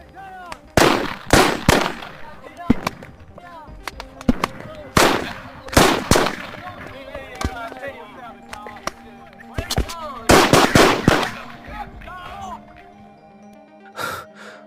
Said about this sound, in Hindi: पीछे से गोलियों की आवाजें आती हैं।